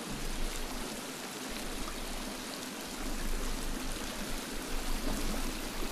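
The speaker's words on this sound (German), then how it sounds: "Auf jeden Fall einen lauten Wasserfall irgendwo" A loud waterfall in the video game The Forest rushes in a steady, dense roar that fills the whole clip, with no voices over it.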